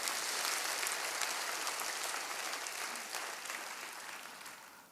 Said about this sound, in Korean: 우리 하나님 앞에 미리 감사와 영광의 박수를 한번 올려드리겠습니다.